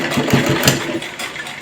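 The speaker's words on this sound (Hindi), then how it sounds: "अब हम इसको पलट के यहाँ पे टॉप स्टिच चला देते हैं" A sewing machine runs a top stitch along the neckline of a kurti, its motor whirring steadily with a close, rhythmic pulsing.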